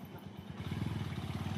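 A motorbike labors up a slippery red mud road, its engine chugging in a rapid, rhythmic low throb that rises after a brief quieter start, heard at a moderate distance for under two seconds.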